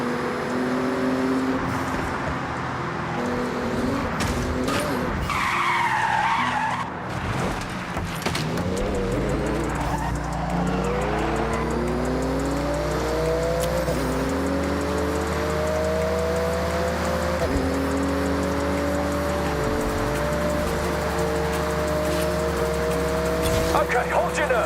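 In the racing game Forza Horizon 6, a Porsche engine revs hard and climbs through gears with rising, sweeping tones, with brief tire squeals and a whoosh, racing through a speed zone under steady background noise.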